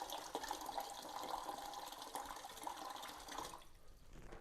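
Cold tap water runs steadily into a container, a faint continuous splashing rush that lasts several seconds before cutting off near the end.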